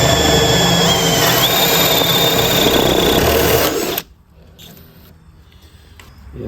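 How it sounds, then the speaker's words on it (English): A power drill with a 1 1/4 inch speed bore bit bores through Millboard composite decking, a loud steady whine with a pitch shift partway, cutting off abruptly after four seconds into near silence. "Right now we're using 1 1/4 inch speed bore bit in order to accommodate our plug and play lights"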